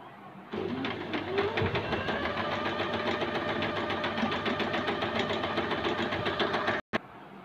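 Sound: Usha Dream Stitch sewing machine stitching

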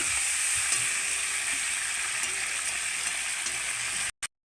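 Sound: fish heads frying in oil

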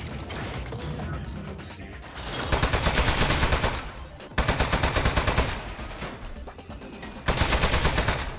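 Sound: turret firing in video game Aperture Desk Job

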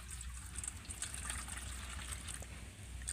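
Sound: pouring cold water over boiled eggs

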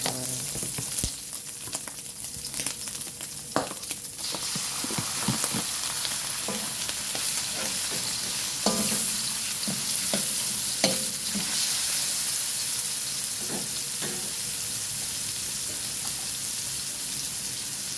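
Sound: liver frying and being stirred in a pan for pancit bihon

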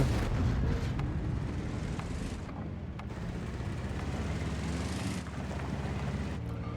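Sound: tank engine in a video game

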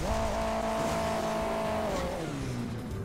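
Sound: car driving in the video game Hill Climb Racing 2

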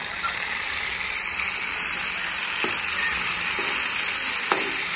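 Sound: tomatoes added to browned onions, sizzling in pan

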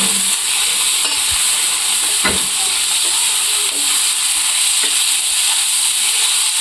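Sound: frying and stirring ground green chillies

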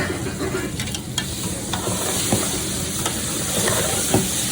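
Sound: roasting and stirring mutton in a pan

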